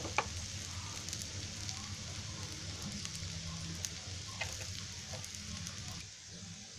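Cabbage vadi shallow-fries in a pan with a soft, continuous sizzle and faint crackles, fairly quiet and close, easing slightly toward the end.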